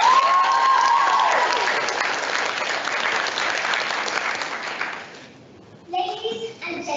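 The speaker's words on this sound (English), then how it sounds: "Please give them a huge round of applause." Audience applause for the Fontaine team at a public speaking competition, loud crowd clapping that fades out after about five seconds, followed by a voice starting to speak.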